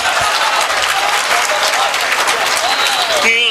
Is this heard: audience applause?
yes